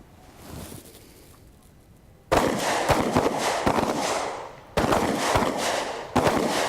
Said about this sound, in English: On my command to hit, you'll fire 2 rounds.